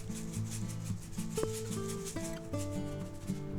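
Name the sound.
coarse kosher salt rubbed onto thick boneless pork chops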